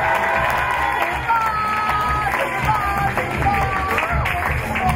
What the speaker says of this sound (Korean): 지금까지 멋진 호흡을 보여준 여덟 커플에게 박수 부탁드립니다.